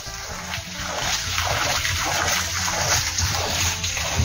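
A large water wheel on a canal turns and splashes continuously, with loud rushing, churning water and a regular pulsing rhythm as the paddles strike, close and filling the whole stretch.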